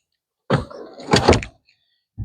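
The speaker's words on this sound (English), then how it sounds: "you can slide these back, forward, and back." Seats in a Chevrolet Suburban sliding along their tracks, two short mechanical clunks and scrapes in quick succession, close and fairly loud, followed by a brief pause and the start of another movement.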